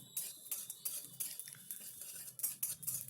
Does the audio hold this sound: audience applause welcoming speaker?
no